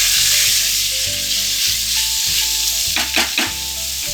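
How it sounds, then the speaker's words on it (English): Pork pieces sizzle loudly and steadily in a pressure pan while a utensil stirs them, adding a few scraping knocks toward the end. No voices can be heard. "I put all the pork pieces into it. Just stir it"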